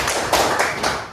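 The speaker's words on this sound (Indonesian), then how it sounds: "Aplaus dulu untuk David" An audience in a classroom setting gives brief applause for David, with a few quick claps and taps in a short, close burst.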